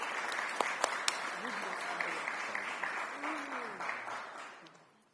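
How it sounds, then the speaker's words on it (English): Applause from the audience at a sports commission kick-off event, a dense steady crowd clapping that holds for several seconds, with a few sharper claps and some voices underneath, then fades away near the end. "let's give Hilton a warm round of applause"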